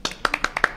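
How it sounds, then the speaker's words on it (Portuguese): A few quick hand claps from a small podcast studio audience, close and bright, ending in under a second. "Palmas no estúdio, por favor."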